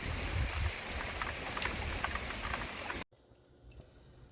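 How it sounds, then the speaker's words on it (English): Rain falls outside in a dense, steady patter on surfaces, heard up close for about three seconds before it cuts off abruptly to near quiet. "We've had a lot of rain this week though."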